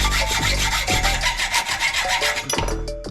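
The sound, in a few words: hacksaw cutting a BMX bike fork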